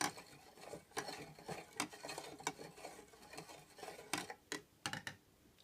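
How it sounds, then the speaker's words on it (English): A spoon stirs salted water in a container, giving a quiet series of irregular metallic clinks and scrapes against the sides, close and faint. "Give it a stir."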